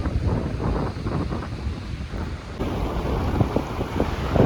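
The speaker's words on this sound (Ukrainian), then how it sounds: "ви вже чуєте цей вітер" Strong wind roars and buffets the microphone continuously in Egypt, with a broad rushing sound that may include waves nearby; no one speaks.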